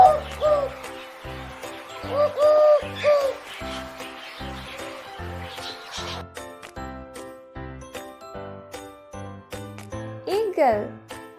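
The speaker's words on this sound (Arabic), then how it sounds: "dove" A dove coos in repeated soft, low, hooting phrases with an even rhythm, set against light tinkling music that runs through the whole stretch.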